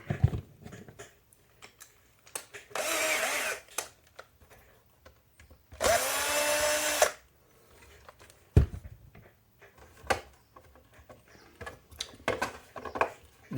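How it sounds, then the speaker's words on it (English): A power drill backs a screw out during a slash dust cover installation, with two loud whirring bursts of about a second each separated by quiet handling clicks and taps. "I gotta take that screw all the way out"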